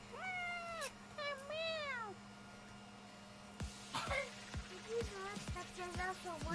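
A cat meows close by, several rising and falling cries in the first two seconds. More meows follow, mixed with a person talking faintly in the background.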